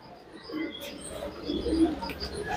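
Soft, close pigeon coos, a few low murmuring calls spread over a couple of seconds against quiet background noise.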